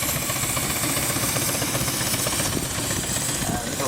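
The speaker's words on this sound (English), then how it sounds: "little barrel engine here." A miniature steam barrel engine, with its cylinders set in barrel form, runs steadily at close range on a model steam display. It makes a dense, continuous mechanical chuffing and whirring that holds at an even level throughout.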